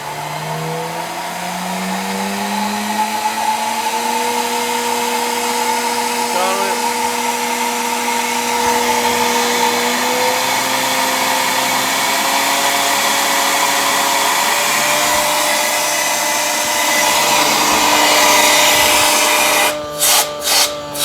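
A Gorilla G2 machine starting up and running: a rising whine settles into a steady mechanical hum with layered tones, continuous and fairly loud, with a few sharp clicks near the end.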